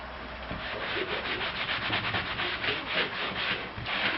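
Dried chalk paint on a kitchen cabinet front, lightly scraped in a steady, continuous, close rubbing rasp with a faint repeating stroke rhythm throughout.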